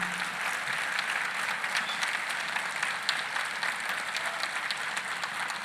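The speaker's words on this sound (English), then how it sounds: "I think the applause can be louder" Audience applause at a Sapiens Health Foundation silver jubilee function honouring superstar Rajinikanth, steady and even throughout, heard from a distance in a large hall.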